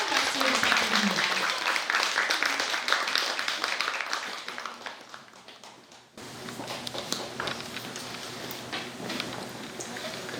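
An audience at a Buddhist book-publication dharma ceremony claps warmly, a dense wash that fades, then resumes with scattered claps under a speaking voice.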